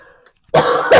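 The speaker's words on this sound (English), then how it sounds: "Damn, I have to cough again." A single hoarse cough from someone speaking indoors, loud and close, preceded by a short quiet moment with a brief faint sound.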